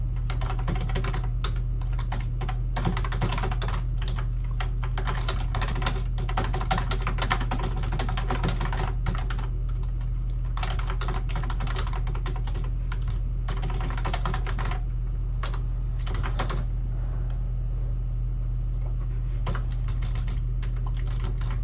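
Fast keystrokes on a computer keyboard while writing Visual Basic code, a steady run of close, crisp clicks and taps over a constant low hum, with no talking.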